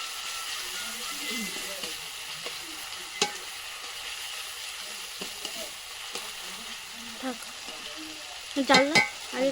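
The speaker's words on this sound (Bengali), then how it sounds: "পেঁয়াজটাকে ভালো করে তেলের মধ্যে ভেজে নিয়ে সেখানে ভাজা হচ্ছে" Onions fry in oil for a village-style meat curry, giving a quiet, steady sizzle. Occasional utensil clicks and stirring sounds come through, with a few louder clatters near the end.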